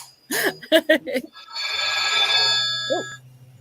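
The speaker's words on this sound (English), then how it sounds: "I know, my phone's really loud." A loud phone ring cuts in after a few seconds of talking and holds as a steady bright electronic trill, with a voice briefly heard again near the end.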